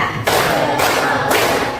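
A classroom of students claps together in counted rhythm, making three dense, sharp-edged bursts of many hands, each lasting about half a second and coming fairly close and loud.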